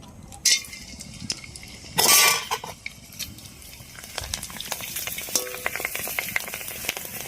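Four small snack pieces drop into hot oil, setting off a loud sudden hiss that settles into steady bubbling sizzle as they puff up round, with occasional utensil clinks close by.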